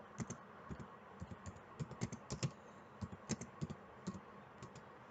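A name is typed on a computer keyboard in a quick, uneven run of close, crisp key clicks over a faint background hiss.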